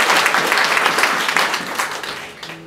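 Church congregation clapping hands together, a loud sustained wash of applause that begins to fade toward the end.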